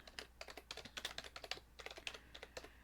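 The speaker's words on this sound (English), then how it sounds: "And use this keyboard." Rapid, irregular clatter of a computer keyboard being typed on, keystrokes close and crisp in bursts with short pauses, no voices.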